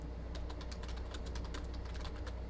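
Rapid typing on a computer keyboard, a quick irregular run of light plastic key clicks, close and fairly quiet over a low steady hum.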